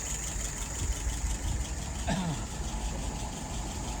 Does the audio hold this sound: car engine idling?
yes